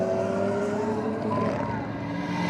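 A BMW F80 M3 and a Honda racing down a quarter-mile strip at Sydney Dragway, with a steady distant engine roar under a faint pitch shift and no talk.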